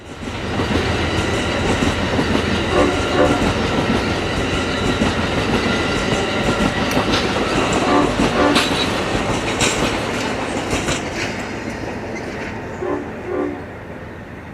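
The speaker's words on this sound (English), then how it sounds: "the Coast Starlight passes over another spectacular bridge, the Dry Creek Trestle" Amtrak Coast Starlight passenger train crossing the Dry Creek Trestle in mountain country, a steady loud rumble with rhythmic clacking wheels and brief horn-like tones, no voices.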